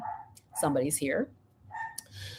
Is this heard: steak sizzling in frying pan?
no